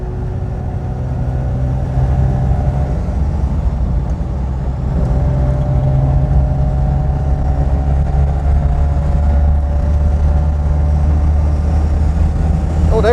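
A 1974 Daihatsu Fellow Max two-stroke kei car drives at around 40 to 50 on an open road, giving a constant buzzing engine drone with road rumble inside the cabin, holding steady and loud throughout.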